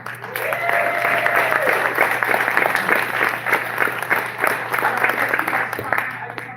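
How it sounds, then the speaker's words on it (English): Audience applause at a micro film festival fills the whole stretch, a dense steady wash of many hands clapping close by, with a faint voice sliding under it near the start. "can you please give a huge round of applause for Sunshine Bot?"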